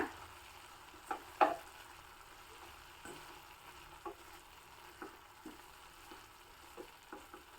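A spoon stirs sambar powder mixture in a frying pan, giving faint, quiet scrapes and soft taps repeated at irregular intervals over a low background hiss.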